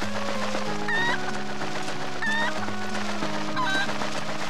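A chicken clucks in The Legend of Zelda: Twilight Princess, three short bursts of close clucking spaced about a second apart over steady game background music.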